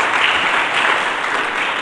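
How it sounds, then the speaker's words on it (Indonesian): A church congregation breaks into loud, dense applause, with many hands clapping steadily together at close range throughout. "Mari kita berikan tepuk tangan bagi Yesus Kristus."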